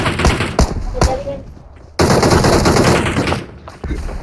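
Rapid bursts of video-game gunfire in a Run Bo session, loud and clustered in several volleys, with a voice talking partly over them.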